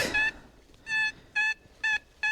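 A metal detector gives repeated electronic beeps, four evenly spaced bright tones with short silences between them.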